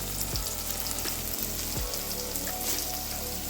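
Onion and tomato sizzle steadily in a pan as chili powder goes in for a Palakkad-style beef biriyani, a dense continuous frying hiss with a couple of brief stirring scrapes.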